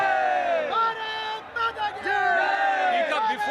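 A cricket crowd at Narendra Modi Stadium chants and cheers loudly after India beat Pakistan at the 2023 World Cup, with rising and falling massed voices close by.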